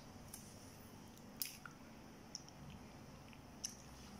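Canned 555 sardines in gravy are chewed close up, with soft, faint wet squishing and a few small clicks over quiet room noise, no talking.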